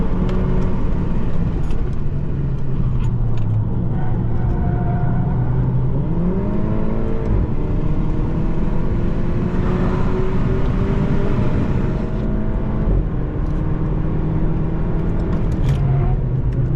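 A Volkswagen Golf on Nankang AR1 and NS2 tyres driving on a race track, heard from inside as a loud continuous engine drone rising and falling through gear changes, with a voice talking over it.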